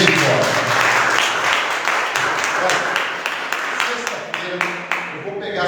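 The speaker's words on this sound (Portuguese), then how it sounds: "Então aplauda Ele mais uma vez. Bem forte." A church audience gives loud, sustained applause for several seconds, with crowd voices mixed in and distinct claps standing out toward the end.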